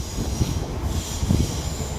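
Low, continuous rumble of a train rolling past nearby on a working line under archways in Glasgow, with a faint high whine of wheels on the rails above it.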